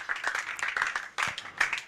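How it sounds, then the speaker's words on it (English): An audience at a live event claps to welcome a company CEO and co-founder onto the stage, with a brief, moderately quiet burst of scattered hand claps that dips for a moment and then picks up again. "Keep clapping till he is seated."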